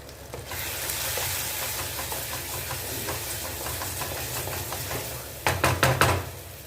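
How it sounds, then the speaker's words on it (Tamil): Food sizzles steadily in a hot pan while frying for an okra tamarind curry, with a few louder, crackling bursts near the end as it is stirred. "நல்லா வதங்கி வரட்டும்"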